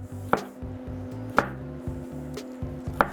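A kitchen knife chops carrots thin on a cutting board while cooking chili. Sharp, distinct strikes land at roughly one-second intervals, close and clear over a steady low hum, with no talking.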